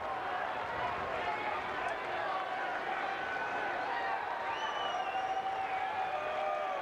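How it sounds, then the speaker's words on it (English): Baseball fans at a Cardinals vs Rockies game applaud Rick Ankiel, steady distant clapping and crowd murmur from the stands that holds at a constant level, with faint whistles rising above it. "some of the Cardinal fans are standing up applauding the night for Rick"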